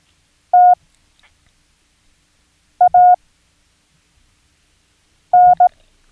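Three short groups of clean electronic Morse code tones spelling the letters T, E, A and N, loud and close with silence between each group.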